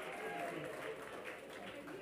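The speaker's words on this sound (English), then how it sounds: "Let's give him one more round of applause" Applause from the audience at a library fundraising gala with a celebrity dance show, a dense, continuous patter of many hands at moderate distance, easing slightly toward the end, with voices mixed underneath.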